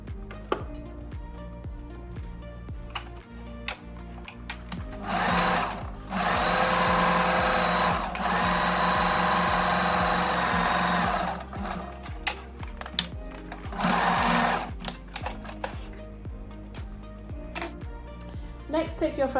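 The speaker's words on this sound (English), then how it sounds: "So we're going to sew along the long open edge and then across the top." A sewing machine stitches blouse straps in two sustained runs of fast whirring, with steady ticking and clicking of fabric handling before and after, close by, and a voice talks at times.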